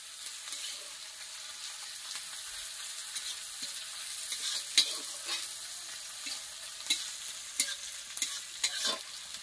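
Food frying on a clay stove in a home kitchen, a soft continuous sizzle with occasional scrapes and taps as the pan is stirred, fairly quiet and without voices.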